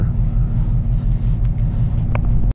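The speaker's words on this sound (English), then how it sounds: "So while the car's warming up right now, I'm letting my windows defrost" A car engine idling on a winter morning with the defroster on full blast while it warms up: a steady, loud low rumble with a few faint clicks near the end, no one talking.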